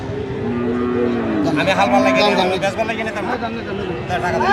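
A Sindhi calf at a cattle market lets out a long, loud, nearby moo, with people talking underneath.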